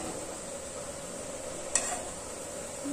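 Green chillies sizzling in a pan with bottle gourd leaves, a steady soft hiss with one sharp utensil clink partway through and no talking.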